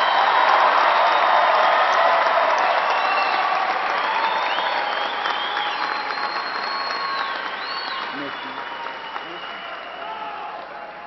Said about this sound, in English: Let's have one more round of applause for our graduates.